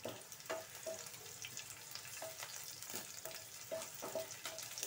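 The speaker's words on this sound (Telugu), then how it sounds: "ఇవి ఎర్రగా వేగిపోయిన తర్వాత బాగా వేగాలి." Ground onion, garlic and ginger paste fries in a pan for a street-style chaat, giving a steady close sizzle with intermittent stirring scrapes and no talk.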